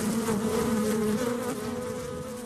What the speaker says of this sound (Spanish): analizamos su comportamiento gracias al sonido que emite la colonia en la colmena, denominado el canto de las abejas obreras